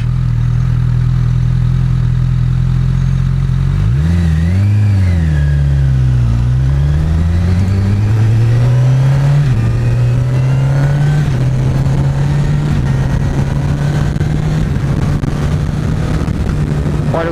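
A 2014 Honda CBR 1000 RR Fireblade on its original exhaust revs and accelerates hard nearby, engine pitch climbing, dipping and rising again, then holding a strong sustained roar.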